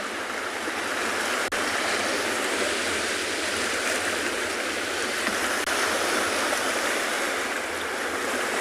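Ocean waves roll as a loud, steady broadband wash of surf on the South African coast, continuous and close with no clear breaks between breakers.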